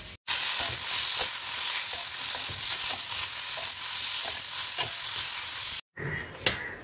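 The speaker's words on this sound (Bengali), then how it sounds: "তো এখন কড়াটা গরম হয়ে গেছে, ছেঁচকিটা চাপিয়ে দিই" Pumpkin chechki sizzles and fries in a hot wok, a dense continuous hiss with occasional stirring scrapes, cut by a brief pause near the end before the sizzling resumes.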